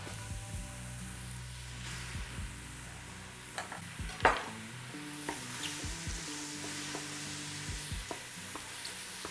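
Onion frying alongside browning mushrooms in a pan for a braised beef and mushroom sauce, a steady close sizzle with repeated clinks and scrapes of a spoon stirring against the pan.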